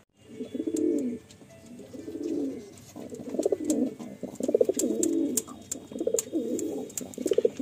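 Freshly released Kalasabuj pigeons from a Kolkata loft coo repeatedly close by, soft throaty rolling bursts in a loose rhythm, with a few sharp ticks over a quiet background.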